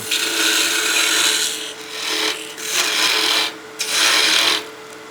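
Half-inch spindle gouge cutting a wooden spinning top on a lathe, a close, loud scraping hiss in several bursts separated by brief pauses.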